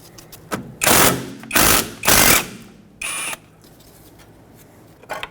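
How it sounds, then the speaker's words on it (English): Hammer and pry bar striking to knock a stuck front brake hose off a 2006-2010 Hyundai Sonata: four loud, broadband metallic bursts with short gaps, then a faint tap at the end, no talk. "I'm going to use a pry bar and a hammer to try to punch this off"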